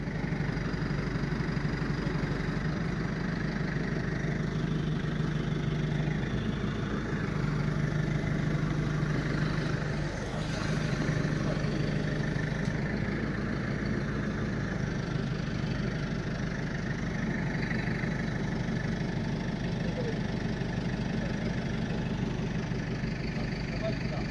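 A tractor engine idles in a steady low rumble for the whole stretch, a constant close drone during a pallet-unloading job in Kyiv, with faint background noise.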